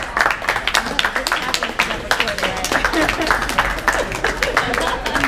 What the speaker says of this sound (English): after all the clapping